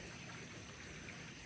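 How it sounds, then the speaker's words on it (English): Light rain falls outdoors in a soft, even hiss, faint and continuous for the brief stretch, with no talk over it. "It is raining a bit right now around me."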